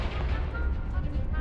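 Confringo blasting spell explosion in Hogwarts Legacy on hard difficulty: a dense, sustained booming roar with a heavy low rumble that holds steady for about a second and a half, with no voices over it.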